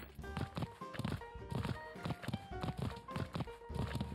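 Heavy hoofbeats of a Kaprosuchus in Ark: Scorched Earth thud in a steady, regular rhythm like a horse trotting, close and clear over a soft musical background.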